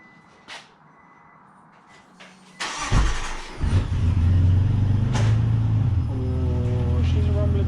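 A Sea-Doo RXT 255 jet ski engine cranks and catches, then settles into a loud, steady low rumble close by after a few quieter knocks and clicks.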